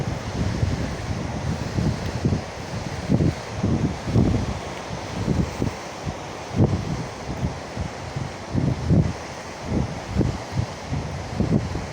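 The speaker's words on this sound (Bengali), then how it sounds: "সমুদ্রের সেই" Sea waves breaking and steady wind on Shahpori beach in Teknaf, heard as continuous surf with rhythmic low swells and a constant wind rush across the microphone, with no talking.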